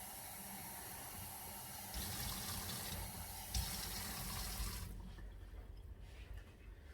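Hot tap water, hot but not boiling, runs steadily into a measuring cup in a home kitchen while making a pecan pie cobbler, a continuous close splashing pour that thins out and quiets toward the end.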